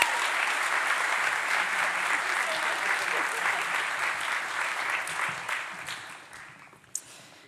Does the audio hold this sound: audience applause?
yes